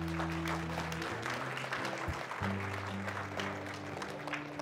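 A church congregation claps together during a service, a steady burst of applause with a low organ or keyboard chord sustained beneath it.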